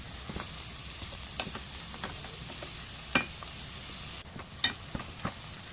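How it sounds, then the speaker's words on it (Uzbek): Onions, pepper pieces and carrots frying in a pan for a tomato pilaf, a soft steady sizzle with scattered stirring clicks and taps, close but fairly quiet. "Piyozlarni tillarang qilib qovurib olamiz."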